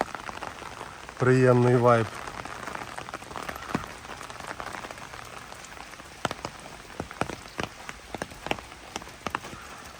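Steady rain patters on the streets of Lviv on an eve-of-autumn walk, with scattered drops tapping nearby surfaces throughout; a brief voice speaks early on.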